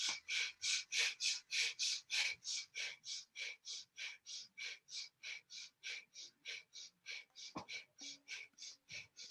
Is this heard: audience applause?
no